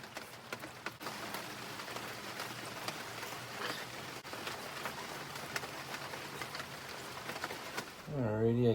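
Steady rain patters outdoors on a deer hide fleshing site, a continuous close hiss with scattered drop taps, ending in a brief louder rustle.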